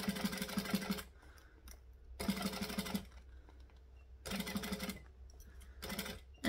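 A sewing machine stitches and back stitches close to the edge of fabric, three loud bursts of rapid, buzzing needle strokes about a second long, separated by quiet pauses, close up and with no talk.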